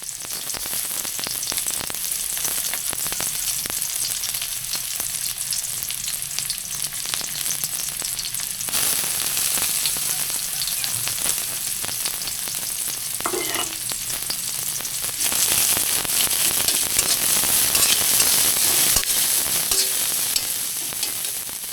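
Onions fry in oil while a spatula pries the clumped pieces apart. A continuous loud sizzle runs throughout, with scraping and stirring, and it grows brighter toward the end.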